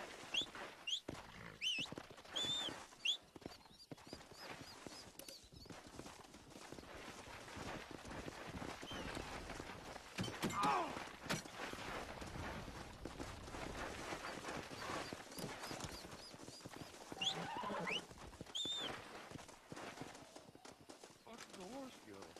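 Horse hooves clip-clop steadily in the Red Dead Redemption video game, a continuous trotting rhythm under dense game audio with voices and scattered other sounds throughout.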